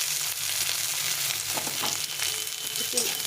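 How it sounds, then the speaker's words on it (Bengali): Garlic and onion fry in hot oil for a lentil mash, a steady close sizzle with occasional stirring scrapes and no talking. "একটু লাল লাল করে ভেজে নেব রসুন পেঁয়াজটাকে"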